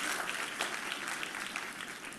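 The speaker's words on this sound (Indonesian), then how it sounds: "Tepuk tanganmu yang paling meriah buat Yesus Tuhan kita." A church congregation claps for Jesus in a dense, sustained burst of applause filling the room, loud and continuous throughout.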